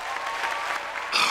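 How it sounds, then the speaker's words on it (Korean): An audience at a live talk featuring a humanoid disaster-rescue robot breaks into steady applause, a full, even wash of many clapping hands that swells slightly louder toward the end. "여러분 박수 좀"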